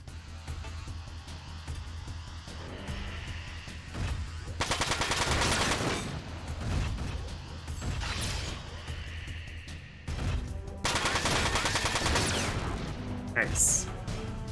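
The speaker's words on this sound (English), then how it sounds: "Let's actually use the machine gun here." A machine gun fires in the mech strategy game Front Mission 4 in two long, loud rattling bursts separated by quieter battle ambience, while someone talks during the quieter stretches.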